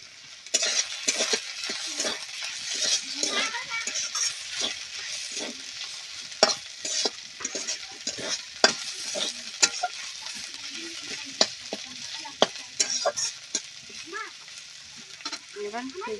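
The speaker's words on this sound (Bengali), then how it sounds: "ভালো করে নড়াচড়া করে ভেজে নেব।" Radish greens stirred and fried in oil with rice paste, a constant bright sizzle under repeated spatula scrapes and metallic clinks against the pan, close and continuous throughout.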